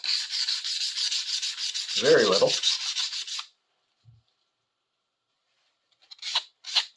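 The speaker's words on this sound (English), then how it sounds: "I think a little bit of sanding." Steady sanding on an old steel tool with a chipped, once-sharpened blade, a continuous rough scrubbing for about three and a half seconds, then silence apart from a faint tap and two short closing scrapes.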